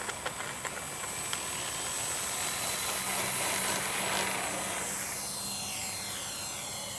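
An E-flite Hawker Hurricane RC model plane climbing out at high power, a steady whining electric motor and propeller drone that swells and then fades slightly with distance, with faint wind in the background.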